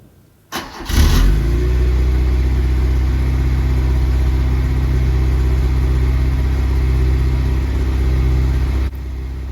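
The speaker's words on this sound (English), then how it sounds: "Starting the car was with the hand choke, which is very decent and very 1980s, as it basically fires up directly." A 1980s Opel car's engine, started with the hand choke, cranks briefly, catches at once and settles into a loud, steady idle close by until it cuts off near the end.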